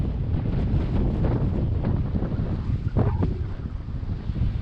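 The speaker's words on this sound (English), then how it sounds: "the wind has picked up so much that we can't even go forward anymore" Strong wind roars across Lake Kawnipi in Quetico during a canoe trip, with choppy waves slapping around the boat under a constant loud buffeting of wind against the microphone.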